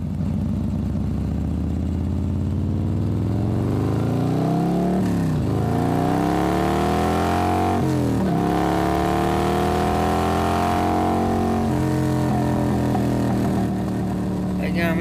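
A motorbike engine revs hard and continuously, its pitch swooping up and down through several throttle blips over a steady rough drone.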